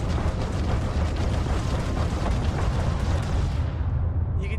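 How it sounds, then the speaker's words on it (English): Weapons fire blasting rocks apart in the Starfield video game, a dense, continuous roar of rumbling explosions and crumbling debris that stays loud throughout before thinning at the very end. "you can use your weapons to just blow these rocks apart"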